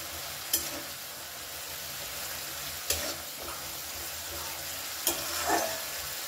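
Slit green chillies hit hot frying oil for a puti fish dish, giving a steady soft sizzle with three sharp crackling bursts spread through the clip and a brief louder spit near the end, with no talk.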